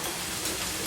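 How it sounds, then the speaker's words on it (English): Bacon going back into a hot pan of translucent onions for bacon jam, giving a steady, close, even sizzle and hiss that carries through the whole moment without a break. "I'm going to add back in my bacon."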